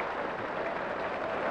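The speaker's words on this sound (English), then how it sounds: "drama, richly appreciated, warmly applauded" Warm applause from a crowd at the 1991 Waterloo bowls final after the winning shot, a brief, dense, steady patter of clapping with no voices.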